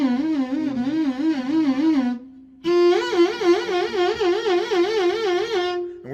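Violin playing two sustained notes with exaggerated, wide sliding vibrato that swoops up and down like a glissando, separated by a short pause, played close and solo.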